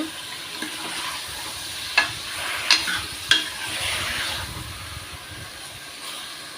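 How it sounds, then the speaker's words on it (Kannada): Washed mutton for mutton chops frying in oil and being mixed, with a steady soft sizzle and three sharp scraping knocks of the spoon against the pan near the middle, close by. "ಮಟನನ್ನು ಚೆನ್ನಾಗಿ ತೊಳ್ಕೊಂಡು ಹಾಕ್ತಾ ಇದು ಆಯಿಲಲ್ಲಿ ಸ್ವಲ್ಪ ಫ್ರೈ ಆಗಬೇಕು ಚೆನ್ನಾಗಿ ಮಿಕ್ಸ್ ಮಾಡೋಣ"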